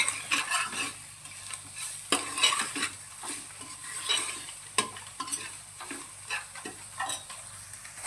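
Onions and spices with red chili powder being stirred in a frying pan for kadhi, heard close up as a steady sizzle under repeated scraping and clinking of a utensil against the pan.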